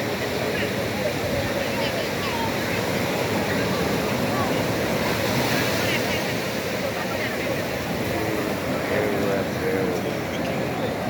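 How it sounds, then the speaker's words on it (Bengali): Large ocean waves break on a crowded beach, making a continuous loud roar of surf throughout. Voices can be heard amid the rushing water. "বিশাল বিশাল ঢেউ অনেক বড় বড় ঢেউ"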